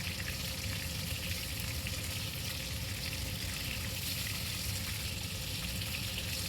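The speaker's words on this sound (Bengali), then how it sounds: "মাছটা আমার একটা পিঠ ভাজা হয়ে গেছে এটাকে আমি উল্টে দিচ্ছি" Just after being flipped, a piece of catla fish fries in hot oil in a pan, giving a loud, continuous, even sizzle with no voices.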